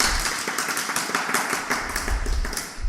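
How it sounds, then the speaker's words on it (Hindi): Dense, steady applause from a gathered audience at a spiritual discourse, many hands clapping together at close range throughout, with no voices over it. "तालियां बजाओ सभी से।"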